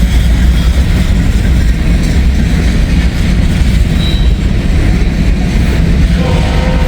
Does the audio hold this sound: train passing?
yes